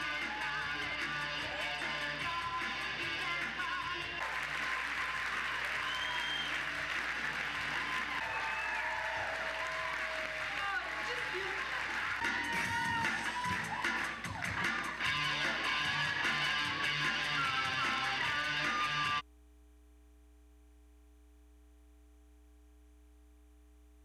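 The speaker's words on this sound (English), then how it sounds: "Clap if you know Sven" An audience claps and applauds at a live show, a dense sustained wash of clapping lasting about twenty seconds before cutting off abruptly.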